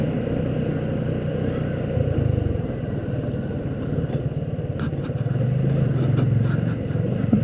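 A motorcycle rides along a road beside Savar Cantonment, its engine giving a steady, close-up low drone mixed with wind rush that swells slightly toward the end, with no clear talking.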